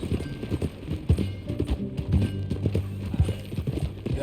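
Hooves clip-clop on the ground in Red Dead Redemption II, a close, uneven rhythm of hoof strikes over low rumbling tones, with a whinny-like sound mixed in.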